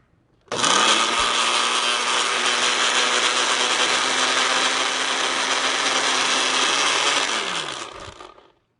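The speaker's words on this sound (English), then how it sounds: "now I will turn on my blender and let that run for about 30 seconds until everything is smooth" A countertop blender whirs steadily for about seven seconds, blending a citrus vinaigrette dressing for an Asian vegetable salad, loud and close with a sharp start and a winding-down stop, no talk over it.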